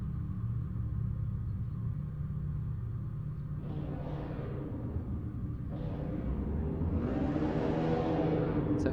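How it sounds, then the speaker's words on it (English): Race cars idling on the grid at Zolder in Assetto Corsa, a dense low engine hum with a few throttle blips rising over the steady drone. "You can really hear the hum of the cars on the grid."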